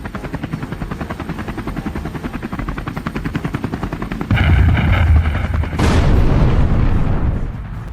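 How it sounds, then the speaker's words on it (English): A loud, close helicopter effect with steady rapid rotor chop throughout, thickening into a heavier roar and rumble partway through, with no talking. "right now I must head to the chopper"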